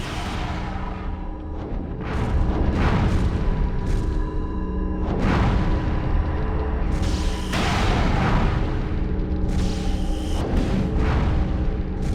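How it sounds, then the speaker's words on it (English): Booming cannon blasts and explosions from the PS2 game Drakengard 2, repeated heavy thuds with whooshing bursts over a constant loud rumbling background. "looks like the only way to get out is to destroy all the cannons"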